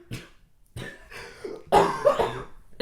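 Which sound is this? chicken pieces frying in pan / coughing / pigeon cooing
coughing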